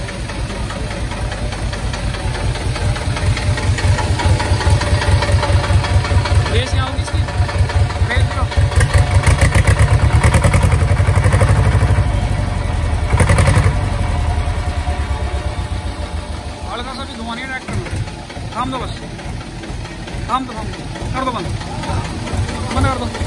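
An 18-year-old HMT 2522 tractor in fully original condition runs with a loud, steady diesel idle knocking close by, the chugging swelling briefly before easing back, while people talk over it.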